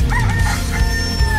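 A rooster crows loudly and close, one strained, wavering call filling the short stretch over a busy, noisy background.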